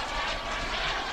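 Model Vampire jet aircraft passes at Rougham airfield during a HobbyKing UK event, its engine a continuous broad whoosh heard alone at steady loudness for a brief moment.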